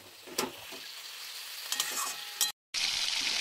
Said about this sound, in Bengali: ভালোভাবে নেড়ে এটাকে খুব ভালোভাবে রান্না করতে হবে।